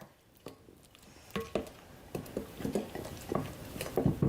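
Bananas are stirred into banana bread batter in a bowl, giving a series of irregular soft knocks and scrapes of a utensil against the bowl that grow busier toward the end, with no talk.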